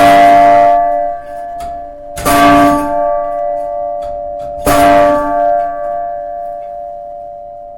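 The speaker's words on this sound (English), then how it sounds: "Here is the sound of the bell that rings on the hour." A large hour bell of cast metal, made by Naylor, Vickers and Company of Sheffield in 1859, strikes loudly three times at slow intervals, each clang leaving a long, humming resonance that rings on between strokes.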